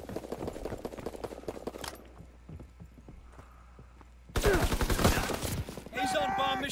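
Gunfire in the World War II shooter game Call of Duty WW2: loud, dense bursts of shots come in rapid clusters, with a quieter stretch midway before a heavy barrage erupts, mixed with in-game voice callouts.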